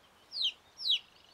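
A cartoon baby chick cheeps twice, two short high chirps about half a second apart, clear and close over a quiet background.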